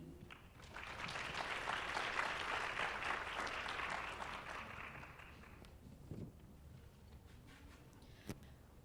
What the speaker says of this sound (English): Can we all give a round of applause for Ms. Kanpanya Raj Singhot?